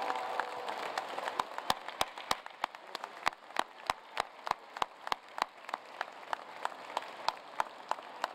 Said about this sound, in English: Please give your faculty members a round of applause for what they have done for your education.